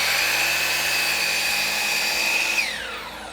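A miter saw cuts a 45-degree angle in PVC trim for a roof pitch: a loud, steady high motor whine runs throughout, then winds down in pitch as the blade spins to a stop near the end.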